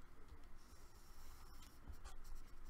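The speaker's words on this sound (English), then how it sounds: "Start tucking the paper in" Paper being folded and tucked while making a paper folio, a soft continuous rustling and sliding that stays faint and close throughout.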